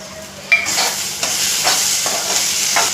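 Whole spices are dropped into a pan of roasting masala, a sharp clink followed by bursts of loud sizzling and scraping stirs repeating for a few seconds, with no talking.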